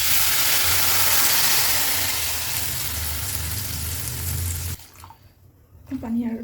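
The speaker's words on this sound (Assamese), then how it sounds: "এতিয়া মই ইয়াতে এড কৰিম পানী।" Water poured into a pan of frying chicken curry, a loud continuous rushing pour close by for several seconds, stopping abruptly, followed by a quiet bubbling and a brief clatter.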